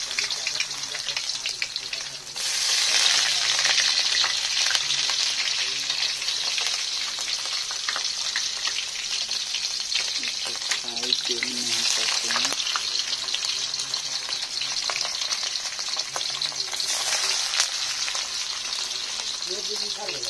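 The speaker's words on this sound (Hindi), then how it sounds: "अब इसको मैं तेल में रखता हूँ, गर्म भी हो गया है तेल।" Paneer pieces frying in hot oil give a steady, loud crackling sizzle that holds for the whole stretch, with a brief dip near the start and occasional soft clatter and faint voices underneath.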